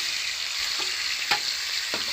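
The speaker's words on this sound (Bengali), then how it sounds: "ভালো করে লাল লাল করে এবারে ভাজা করে নেব" Katla fish pieces frying in smoking-hot oil in a kadai make a loud, continuous hissing sizzle, with occasional brief crackles and pops over it.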